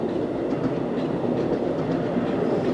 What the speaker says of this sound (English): Right here we see train 5086 from Grand Central